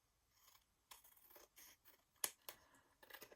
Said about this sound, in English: we'll fold that piece over there like that, and we'll trim that down